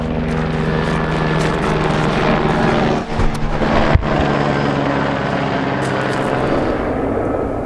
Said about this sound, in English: Helicopter coming over.